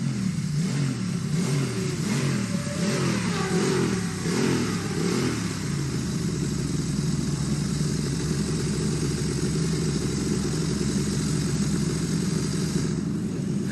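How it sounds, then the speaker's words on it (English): A classic racing motorcycle at Classic TT qualifying revs hard with a pulsing, rattly engine note for several seconds, then settles into a steadier, continuous drone that holds loud to the end. "Hear the clutch rattling then."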